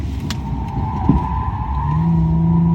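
A Nissan Maxima skids while drifting on a driving course, its tires squealing in a rising sustained tone over the engine's drone, close and loud, with no talk.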